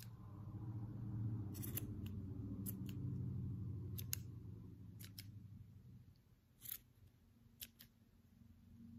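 Scissors snip through a yarn pom-pom, trimming loose flyaway strands; several short, crisp cutting clicks spaced irregularly, close and fairly quiet over a low hum of background noise.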